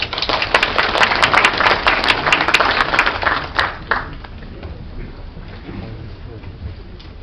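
An audience at a seminar claps for panelists being welcomed, a dense burst of applause that tapers off after a few seconds into a quieter room with faint murmuring.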